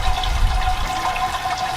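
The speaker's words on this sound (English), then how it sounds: "we're just gonna rinse all the grains. As you can see, it's flowing out." Sparge water rinsing through mashed grains while home-brewing beer, a steady close gush of flowing liquid with low gurgling, no talk.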